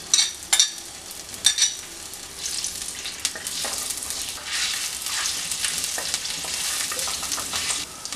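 Ginger and garlic fry in hot oil in a pan, with a steady close sizzle and a few sharp clinks and scrapes of stirring at the start.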